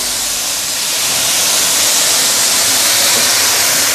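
Prawns hit hot oil in a stainless steel wok for Nyonya assam prawns, a loud, close, steady sizzling hiss that keeps swelling and holds through to the end with no talk.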